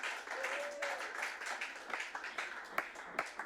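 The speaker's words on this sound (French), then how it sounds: "Acclame pour le roc qui est Jésus." A church congregation applauds and cheers for Jesus, a dense wash of clapping that builds and fades over a few seconds with a few sharper claps near the end.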